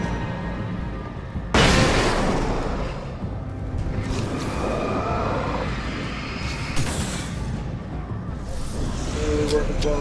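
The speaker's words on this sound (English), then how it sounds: "Flashbang." Flashbang detonation in the video game Alan Wake Remastered, a sudden loud burst with a rushing whoosh, followed by rumbling game action and a second softer blast later, with someone talking over it.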